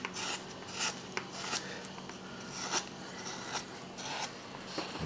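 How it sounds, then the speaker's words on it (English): A soft V gouge scrapes wood from a carved cowboy bust in short, scratchy strokes at an uneven pace, close and fairly quiet, with no talking. "on this soft V, you can take it and put it on its side, and you can remove wood this way"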